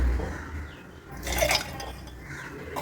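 Mint lemon drink with sabja seeds poured into a glass, a brief liquid splash and trickle with a faint clink, fairly close and quiet.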